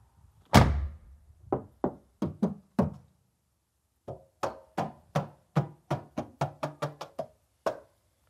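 Knuckles rap on the bare, unlined sheet-metal door of a cheap electric car: one loud opening knock, then short groups and a fast run of hollow, tinny knocks, close and clear with no talking.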